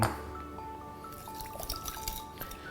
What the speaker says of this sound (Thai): ใส่มะนาวลงไปแล้ว เราก็คนทุกอย่างให้เข้ากัน